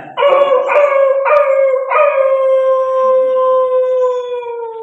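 A voice imitates a dog yelping in pain after being hit on the leg by a stone: three quick sharp yips followed by one long, wavering howl that trails off, loud and close.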